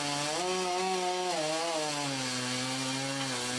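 Chainsaw running steadily during a large tree removal rigging job, a close, continuous pitched motor drone that rises and falls slightly as it cuts wood, with no talking.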